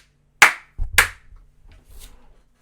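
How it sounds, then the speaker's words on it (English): Two sharp, close hand claps in quick succession, made to sync camera audio before an Insta360 GO 2 unboxing, followed by faint soft rustling in an otherwise quiet room. "Ajmo clap sync"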